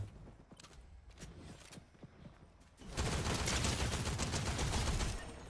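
Gunfire in a shooter video game starts with scattered faint clicks and pops, then breaks into a dense, loud burst of rapid shots that holds for a couple of seconds before cutting off.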